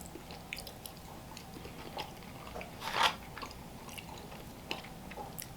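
Popeyes or Chick-fil-A fries being bitten and chewed close up, soft quiet mouth sounds with one sharper crunchy bite partway through.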